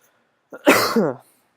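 A single harsh cough, short and close, rising out of silence and trailing off quickly.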